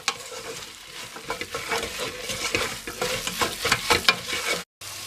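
Okra soup stirred in a pot after Maggi cubes, crayfish and salt go in, a steady run of scraping, rhythmic strokes with a light sizzle underneath, close and fairly loud, briefly cut off near the end.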